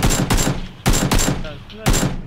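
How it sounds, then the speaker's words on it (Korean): Bursts of gunfire in PUBG, three sharp rapid volleys of automatic shots in quick succession, loud and close, separated by brief gaps with faint whistling tones between them. "뒤에서 쏘고 있어요"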